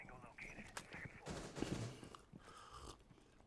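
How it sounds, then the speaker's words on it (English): Gunfire in the tactical shooter Rainbow Six Siege, a burst of sharp shots mixed with clattering game sounds, fairly close and loud, with a denser flurry in the middle of the stretch. "There come the bullets"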